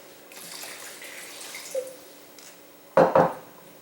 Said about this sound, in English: I've just added some water.